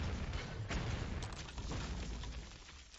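A cannon shot effect in a digital card game lands as a muffled low boom, followed by a rumbling, fairly faint tail.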